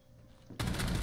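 In the video game Rainbow Six Siege, a sudden loud burst of rapid gunfire erupts after a brief quiet lead-in and keeps going, dense and close, to the end.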